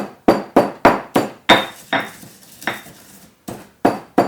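Cinnamon stick being pounded or ground by hand for a chocolate pumpkin pie, giving about eleven sharp, loud strikes in an uneven rhythm, each with a short ringing decay, close up and with no talking.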